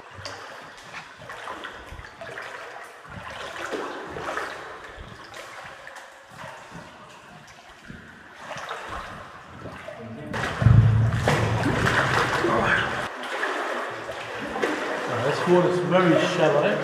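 Water splashing and sloshing with each step as someone wades through shallow, just-over-ankle-deep water in a cave near Vang Vieng, steady and close, with a person talking over it.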